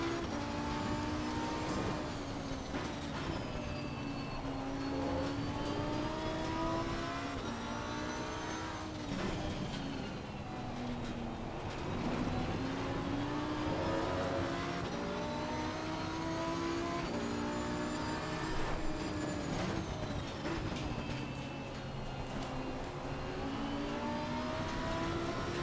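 A Lamborghini race car in a racing game, on the Brands Hatch circuit, holds a loud continuous engine whine that climbs and falls with gear changes and revs, with other cars droning close by.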